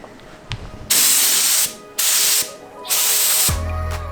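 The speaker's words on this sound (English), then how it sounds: "Okay, it's time to spray." Three long bursts of spray hissing as paint is sprayed onto a Mazda Miata, each about half a second to a second, separated by brief pauses, with a faint low hum behind.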